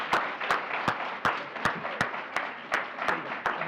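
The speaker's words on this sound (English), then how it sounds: "Another round of applause." Audience applause at a school district board of education honor roll ceremony, a steady rush of clapping punctuated by about ten sharp, evenly spaced loud claps from one nearby pair of hands.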